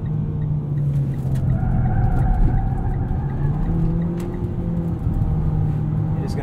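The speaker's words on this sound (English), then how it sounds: "we'll merge onto this highway entrance ramp, downshift a couple gears." A 2022 Mitsubishi Eclipse Cross SEL 4WD accelerates up a highway entrance ramp after a downshift. A steady engine drone with shifting, rising tones comes from inside the cabin, over constant road rumble.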